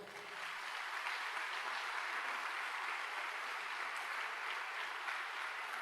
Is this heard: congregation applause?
yes